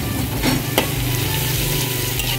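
Salted egg being stir-fried in a pan with wilted bitter gourd, giving a steady, close frying sizzle with a couple of sharp utensil scrapes early on.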